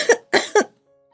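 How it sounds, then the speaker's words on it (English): Three quick, close coughs in a rapid burst, triggered by cigarette smoke, followed by silence. "I coughed again."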